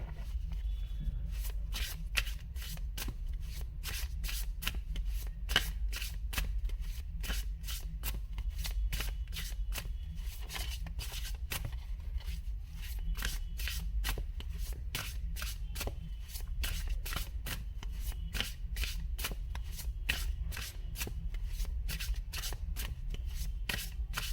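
Tarot cards are shuffled by hand in a long run of quick, crisp riffling flicks, close and fairly soft, repeating in a steady rhythm without pause.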